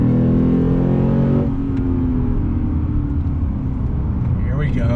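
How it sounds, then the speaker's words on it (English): A 2021 Lexus RC F's V8 engine revs loudly and close by, with steady broad rumble, a strong opening surge easing after a second or so, and shifting tone; someone talks over it. "V8 sound, I love it."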